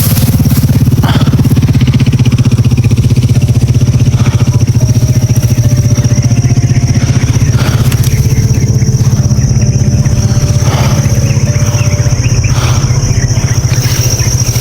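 A motorcycle engine runs loud and close throughout, a steady low drone with slight shifts in pitch as it moves along a rural path.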